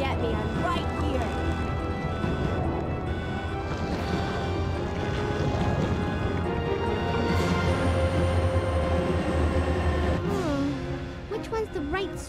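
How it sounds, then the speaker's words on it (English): A train rumbles along in the Resident Evil 2 (1998) game, a continuous low mechanical drone with clanks and a high whine, heard beneath dramatic character dialogue and music-like tones. "We have to stop the train, right?"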